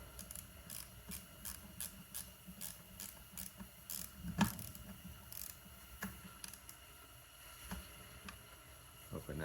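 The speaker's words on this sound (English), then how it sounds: "I believe this is our 3/8 wrench right here." A 3/8 wrench ratchets a nut tight on a home-built lure coursing machine, giving a quick run of light, regular metallic clicks followed by scattered softer ticks and handling noise, close and quiet.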